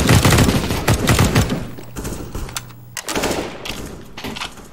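Rapid automatic gunfire from a first-person shooter video game crackles in dense loud bursts, with short pauses between volleys and a few trailing single shots.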